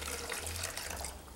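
Melted snow water poured from a small Solo Stove setup into a container, a steady close splashing trickle that runs continuously without talk.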